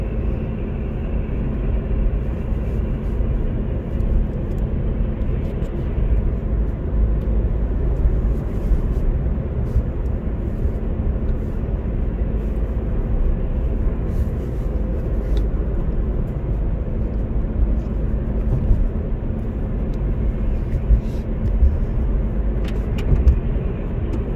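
Steady road noise and engine hum from a car cruising at about 60 km/h on a road during a driving lesson, a continuous close low rumble with no talk.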